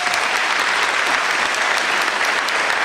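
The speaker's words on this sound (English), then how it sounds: "Let's give her a round of applause." Audience applause fills a high school graduation ceremony hall, a dense, steady wash of many hands clapping at full volume throughout, with no voices on top.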